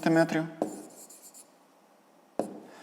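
Handwriting during a fifth-grade math exercise: short scratchy strokes of a pen on paper in two brief bursts, separated by a quiet pause, following a moment of speech at the start.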